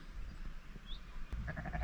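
Sheep bleat on a spring farm among lambs, with a loud, clear bleat near the end over steady outdoor background noise.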